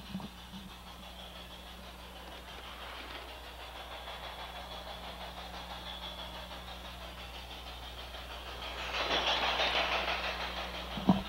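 LGB model trains running on a looped track under automatic block control, a steady low hum of motors and wheels rolling along the rails, rising into a louder rushing pass near the end with a sharp click.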